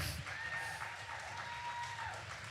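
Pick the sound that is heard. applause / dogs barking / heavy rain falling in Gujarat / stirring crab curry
applause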